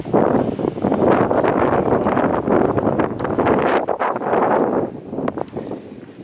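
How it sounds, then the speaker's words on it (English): Strong outdoor wind buffets the microphone in a continuous rough roar, gusting and rustling for several seconds before easing slightly near the end. "Let me get out of the wind here."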